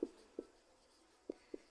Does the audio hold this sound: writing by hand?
yes